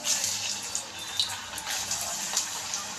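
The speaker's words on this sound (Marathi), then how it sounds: "आपण आता हे फुल गॅसवरती तळतोय" Rava medu vada frying in hot oil over a full flame, a steady bright sizzle with small crackling bursts throughout, close and fairly loud, with no talking.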